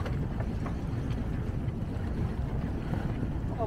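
A racing sailboat glides under sail on Lake Biwa with its engine off, producing a steady wash of water and wind noise close to the microphone, no motor heard.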